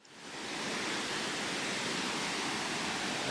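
Dry Falls waterfall near Highlands, North Carolina roars in a dense, steady rush of heavily flowing water, loud and close, with no other sounds over it.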